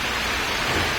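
Heavy rain pours down on a farm, a dense, continuous hiss of falling water that fills the whole moment, loud and steady with no voices.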